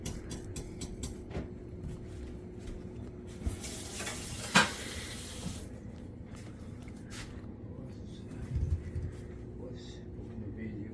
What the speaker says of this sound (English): Gonna stir the gravy a little bit more.